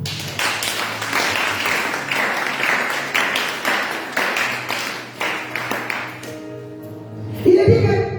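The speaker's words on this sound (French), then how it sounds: "Acclame encore." A congregation at a French-language church service claps steadily in rhythm for several seconds. The clapping then stops, and a voice and musical tones follow.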